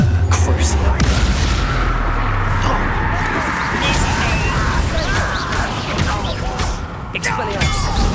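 Spell blasts and explosions from the Hogwarts Legacy video game, with booming impacts, crashes and whooshes running continuously through a loud combat mix while voices call out spells over it.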